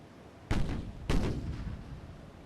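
Naval guns firing in the Ultimate Admiral: Dreadnoughts warship game, where KMS Graf Spee trades high-explosive shells with a heavy cruiser. Two heavy booming blasts come about half a second apart, and each rolls off into a long rumbling tail.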